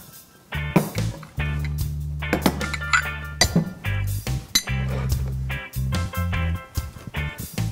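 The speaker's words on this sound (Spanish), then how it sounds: "Mientras tanto, yo voy a colocar los platos donde van a ir nuestras" Ceramic plates set down for drinks while preparing homemade cappuccino with latte art, several close clinks and clatters of dishes in irregular bursts over a steady low hum, with no voices.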